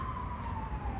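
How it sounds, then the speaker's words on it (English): Ambulance siren passing in the distance, a faint, steady wailing tone drifting slightly in pitch over low traffic rumble. "Sorry about the ambulance."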